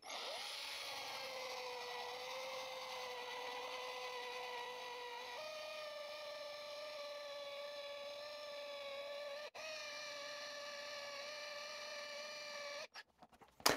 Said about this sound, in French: on va percer du 22 mm et on est sur une mèche à 40 il me semble